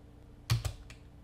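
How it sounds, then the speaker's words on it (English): A computer keyboard gives a short burst of two quick key clicks followed by a fainter third tap, close and isolated against quiet room tone. "in here, I'm gonna type in"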